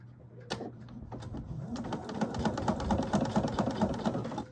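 A sewing machine stitching a velvet princess seam, starting with a few isolated clicks before settling into a steady rapid needle rhythm that grows louder, near and alone.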